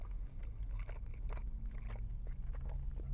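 Crunchy Flamin' Hot seasoned strips in Taco Bell food being chewed up close, with irregular crisp bites and crunches running steadily under a low background hum.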